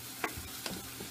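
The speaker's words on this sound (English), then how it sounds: "Yeah, but frying onions do smell nice." Onions fry in a pan, a faint continuous sizzle with a couple of light scraping stir sounds, close by and without talk.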